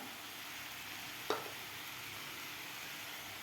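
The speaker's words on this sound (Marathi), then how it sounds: "मी भाज्या व्यवस्थित परतून घेतलेल्या आहेत तुपामध्ये" Vegetables sizzling in ghee for bajra khichdi, a faint steady frying hiss with one brief clink of a utensil near the start, quiet and continuous, no voices.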